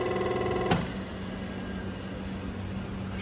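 A WEG 4 hp three-phase 1145 rpm electric motor hums steadily, then a sharp click near the start as it is switched off, the tone dropping away into a low fading rumble as it winds down.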